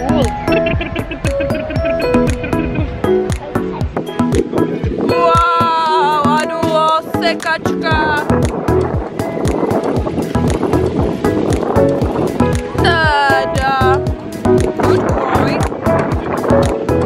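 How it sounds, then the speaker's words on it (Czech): A toy train runs with a continuous, loud rattling clatter of rapid clicks and rumble, heard during a family weekend in Ireland, while voices chatter faintly underneath. "Vláček, slyšíš ho?"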